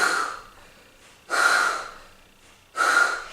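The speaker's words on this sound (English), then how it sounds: "You can hear me exhaling through my mouth" Three forceful exhales through the mouth during an exercise routine come at an even pace, each a breathy rush that fades out, close to the listener, with quiet between them.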